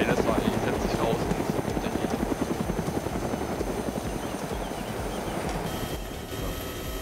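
A helicopter in the video game DayZ: Origins gives a loud, steady rotor chop with a fast rhythmic beat throughout, close and dominant, with voices talking faintly over it.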